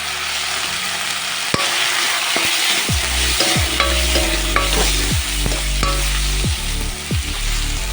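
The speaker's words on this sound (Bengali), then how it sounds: "মাংসটা একটু চিকেনটা ভাজা ভাজা করে নেব।" Chicken sizzles steadily in a pan with chopped green chillies and spices, while a utensil stirs and scrapes at a regular rhythm, several distinct knocks against the pan over a constant frying hiss.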